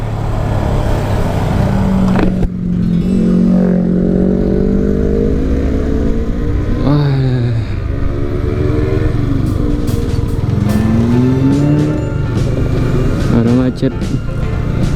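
Motorcycles and cars crawl through a traffic jam in the city of Padang, with engines droning and revving close by in a dense, continuous rumble while people talk over it.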